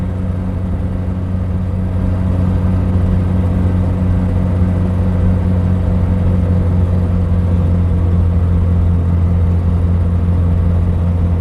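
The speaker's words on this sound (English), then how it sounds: "this car is quite a lot of fun to drive actually. Small and noisy, just how I like them." Small Reliant Fox car engine droning steadily while driving at just under 50 mph, a loud, constant, rumbling cabin noise with no breaks.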